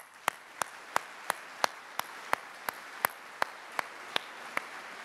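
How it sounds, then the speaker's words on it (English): At a military change of command ceremony, a single pair of hands claps in a slow, even rhythm, about fourteen crisp claps over five seconds over quiet ambience. "So give us a round of applause for them."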